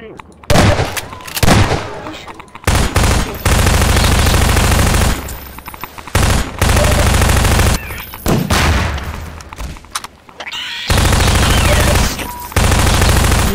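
Enemies open fire in Half-Life 2: Episode Two: loud, close bursts of automatic gunfire and heavy booms in rapid rattling volleys, broken by brief pauses, with faint talk now and then.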